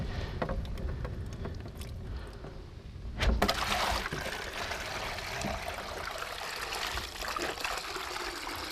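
Water trickles and gurgles steadily as it drains slowly from a white container, a continuous close splashing with a brief louder gush partway through.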